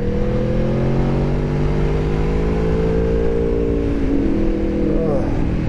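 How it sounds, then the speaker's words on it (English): A 390 motorcycle engine holds full throttle on a track, a loud steady drone with rising pitch, while a rider talks over it. "That little 390 is amazing because you don't ever need to get out of the throttle."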